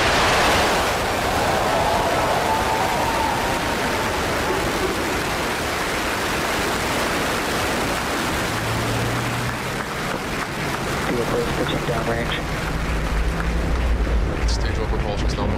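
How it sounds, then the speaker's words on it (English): A rocket's engines ignite on a launch toward the moon, producing a continuous loud roaring rumble that swells and deepens with low rumbling tones, while a voice talks over the roar. "10, 9, 8, 7, 6, 5, 4, 3, 2, 1, 0. Ignition."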